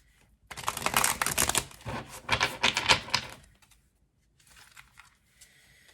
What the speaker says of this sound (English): I'm going to shuffle this deck really good because it is brand new.